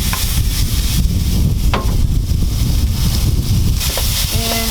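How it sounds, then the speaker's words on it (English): Pork fries in a pan until crispy, giving a steady, loud, close sizzle with occasional light clinks and stirring noises throughout. "I'm just going to cook my pork until it's crispy"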